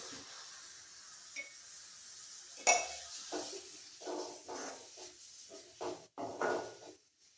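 Onion, ginger, garlic and green chilli stirred in a pan for a brinjal curry, with a sharp metallic clink followed by a run of soft scraping spoon strokes, quiet and close, no voices.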